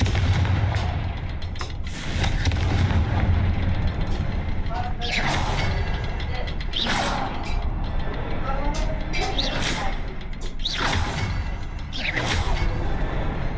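Confringo blasting curse going off in Hogwarts Legacy, a series of loud booming blasts with whooshing bursts repeating every couple of seconds over a dense, rumbling game soundscape.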